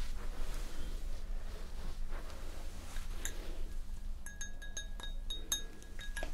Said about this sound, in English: could I offer you a glass of water?